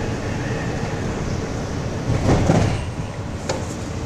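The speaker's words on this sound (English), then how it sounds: "Please hold on. The train is departing." Low rumbling Minecraft train noise with a swell of clattering in the middle and a sharp click near the end, as the train gets moving.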